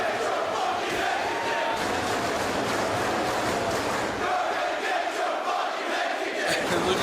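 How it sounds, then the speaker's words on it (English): A large crowd at a professional wrestling event in Rome roars and cheers in a dense, sustained wash of noise that stays loud throughout. "Listen to this crowd in Rome."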